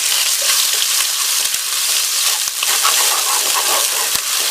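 Chopped ginger and garlic sauté in hot oil with whole cinnamon sticks and cloves, producing a loud, dense, continuous sizzle with scattered sharp crackles and pops throughout.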